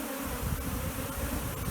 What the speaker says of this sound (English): Very busy hive, as you can see.